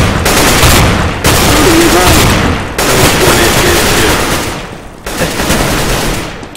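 Sustained automatic gunfire from Counter-Strike: Global Offensive, loud, dense bursts of rapid shots filling most of the stretch with brief gaps between volleys, with faint voices underneath.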